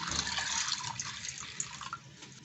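Water poured over bengal gram and green peas set to soak, a steady splashing pour with a bright hiss that runs on close and fairly soft, with no talking.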